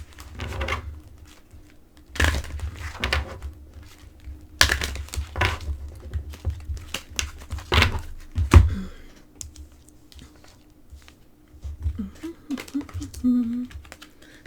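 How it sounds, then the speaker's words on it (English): Stiff oracle cards riffled and slid together in short bursts of crisp flicking and tapping, close by, with pauses between. "These cards are always so hard to shuffle."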